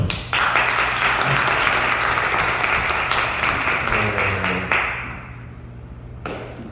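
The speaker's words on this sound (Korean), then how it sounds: "하나님께 영광 박수." Dense, continuous applause from a congregation at a missionary retreat worship service in Mindanao, Philippines, with a steady low hum beneath the clapping. It thins and fades after about five seconds, then a few stray claps remain.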